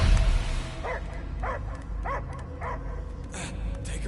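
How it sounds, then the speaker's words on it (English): A dog in the Guardians of the Galaxy game lets out a series of rhythmic, whimpering barks and yips at regular intervals over a low game soundscape. "I hear only barking."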